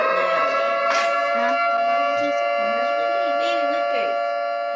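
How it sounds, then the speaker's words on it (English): A loud civil-defense-style siren holds a steady, tonal wail throughout while voices talk over it. "Oh, that is a loud siren."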